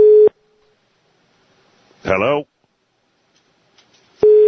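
Telephone line tones on a radio call-in show: a steady beep cuts off, then a voice speaks briefly in the silence before a second identical tone starts, sounding clear and close.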